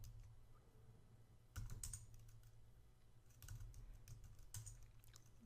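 Rapid keystrokes on a computer keyboard entering a Linux terminal firewall command, steady close clicking with two louder bursts of keypresses, no voices.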